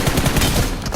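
In PUBG Mobile, a rapid burst of automatic gunfire sprays in quick, evenly spaced shots, loud and close, filling the whole second.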